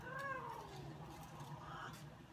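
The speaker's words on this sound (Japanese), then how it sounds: "今ね、喧嘩してるの、 猫。" Two cats squabbling indoors, one snatching food from the other, with strained meows and whining cries close by over a steady low household hum.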